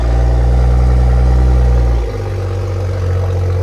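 A used Toyota Supra 3.0 with an aftermarket exhaust idles close by, a loud, steady low rumble that drops slightly in pitch about halfway through and then settles into an even drone.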